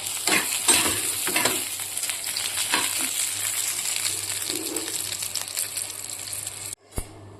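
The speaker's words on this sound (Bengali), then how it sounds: "ডালটা ফোড়ন দিয়ে দিলাম পাতলা করে মুসুর ডাল" Masoor dal being tempered with spices in hot oil in a wok gives a loud, steady sizzle with scraping stirs throughout, then cuts off abruptly near the end, followed by a single sharp clink.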